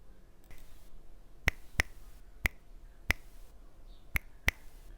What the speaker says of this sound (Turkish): Parmak şıklattım sadece.